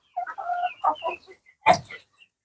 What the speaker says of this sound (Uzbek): Qadrdonlar, mana shu tovuqlarimiz ham sotiladi, kimga qiziq bo'lsa